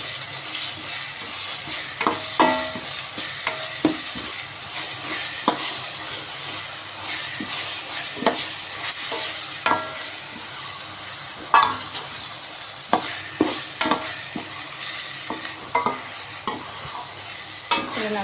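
Fenugreek and cumin seeds sauté in hot oil for a tamarind curry, a constant bright sizzle and hiss with frequent scraping stirs and clicks of a spatula on the pan throughout, close and fairly loud, no voices.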